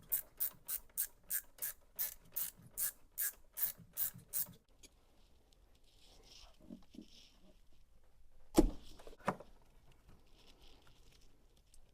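A T30 Torx screw being twisted out of the EGR on an Audi A3 TDI, a series of regular ratcheting clicks close by, followed by quieter scraping and a sharp metallic knock.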